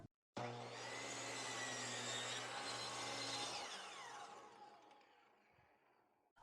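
A miter saw tilted to 22.5 degrees cuts a clamped board at close range with a loud, steady, whining motor roar. The blade then spins down and the sound fades out near the end.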